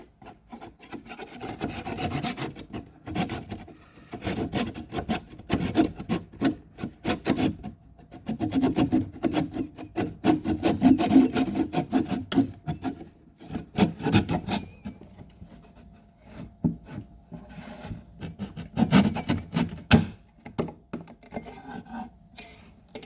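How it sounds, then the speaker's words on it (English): A kerf saw cutting through a wooden joint, with repeated rasping strokes in uneven bursts, close and fairly loud, pausing briefly mid-way before resuming, with no talking. "I ran the kerf saw through there."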